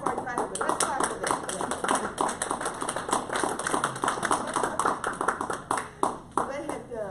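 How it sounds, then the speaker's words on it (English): A congregation at a spiritual living center claps along in a quick, rhythmic patter, fairly close and steady, with voices talking or singing over the clapping throughout. "they've already started clapping, but let's clap for them"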